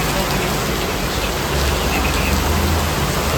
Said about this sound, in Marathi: आता इकडे पाऊस बघू शकता तुम्ही